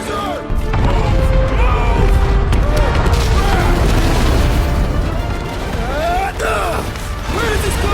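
In the Guardians of the Galaxy video game, a loud nearby explosion sets off crashing, rumbling debris and mechanical clatter, while voices shout over the chaos.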